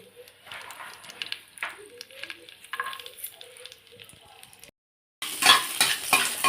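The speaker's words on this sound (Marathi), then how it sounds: "मी आता थोडासा लसूण पण टाकून घेऊया कढईमध्ये" Spoons scrape and clink in a kadhai, then after a short pause a loud, steady sizzle of garlic hitting hot oil bursts out close by.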